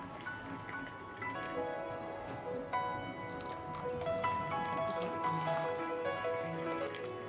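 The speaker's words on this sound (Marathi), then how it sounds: "मस्त गरम गरम चहा ओतून घेऊ." Hot tea pours into a cup with soft continuous liquid trickling and small drips, fairly quiet and close.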